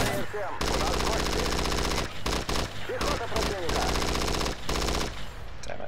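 Loud, dense automatic gunfire from the video game Battlefield 2142, sustained rattling bursts with a few brief breaks and dull blasts amid chaotic multiplayer battle noise.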